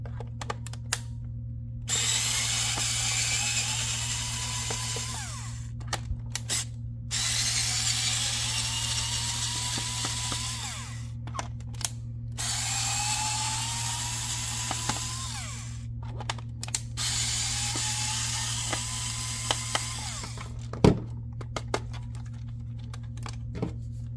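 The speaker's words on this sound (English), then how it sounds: "I'm going to remove the 4 screws for the back of the radio system" Screws being backed out of the rear case of a FrSky Tandem X20S radio transmitter with a small electric driver, several whirring bursts separated by pauses, close and clear over a steady low hum with no talking.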